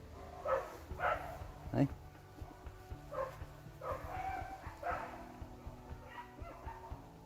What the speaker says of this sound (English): Can you hear where the dog is?